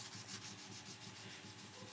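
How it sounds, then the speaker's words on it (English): Wet and dry sandpaper lubricated with WD-40 rubs back and forth over a metal part of a Peugeot Rapport bicycle, a close, steady, rhythmic scratchy hiss with no talking. "I'll use a little bit of wet dry sanding paper"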